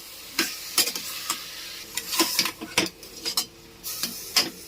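A spoon stirs and scrapes through tomatoes and onions softening in a pan, giving a series of sharp, irregular clinks and scrapes over a low background simmer.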